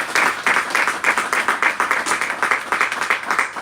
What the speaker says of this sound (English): how about another round of applause for Alex?